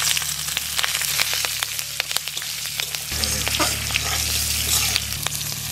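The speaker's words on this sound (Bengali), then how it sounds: "লঙ্কা একটু ভাজা হয়ে গেছে" Green chilies frying in oil with cumin, radhuni and bay leaf, a steady close sizzle broken by scraping stirring strokes, with a low hum running underneath.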